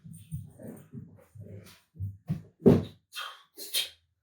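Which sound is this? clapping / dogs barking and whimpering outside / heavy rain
dogs barking and whimpering outside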